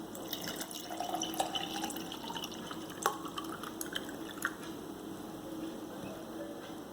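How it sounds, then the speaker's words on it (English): Coconut water pours into a glass over aloe vera gel, a steady liquid trickle with small drips and splashes close by, a few brighter clinks of glass standing out near the middle. "just pour the coconut water over it"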